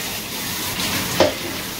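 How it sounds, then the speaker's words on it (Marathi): Garlic frying in a hot kadhai produces a steady close sizzle, with a brief stirring scrape near the middle of the short burst, and no voices. "लसूण टाकलेले आहे सुरुवातीला आपण आणि ती व्यवस्थित कढवूनच घ्यायची आहे लसूण"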